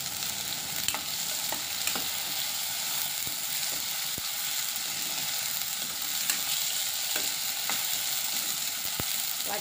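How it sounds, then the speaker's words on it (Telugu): Tomato and green chilies fry in a pan for a pickle, giving a continuous moderate sizzle with scattered stirring scrapes and taps of the spoon against the pan, close by and without talk. "అవి ఇంకా బాగా వేగాలి."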